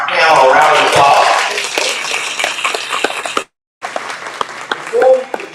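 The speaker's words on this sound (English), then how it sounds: "Let's give our panel a round of applause." Town hall audience applauding a panel: lively crowd clapping with sharp individual claps that thins out, cuts off briefly, then returns in scattered bursts.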